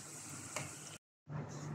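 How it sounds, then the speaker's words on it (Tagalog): Onions fry in hot oil with a steady close sizzle, briefly cut by a short gap of silence before the sizzling resumes. "Prito lang tayo ng sibuyas hanggang mag-golden brown"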